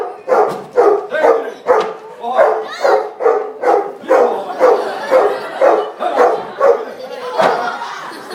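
Dog barking at a sheep shearing show, a steady series of loud, close barks and yips repeating roughly every half second, with people talking and calling over them.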